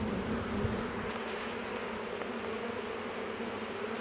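A swarm of honey bees is hand-scooped into a box, producing a steady, close buzzing drone that stays even and continuous throughout.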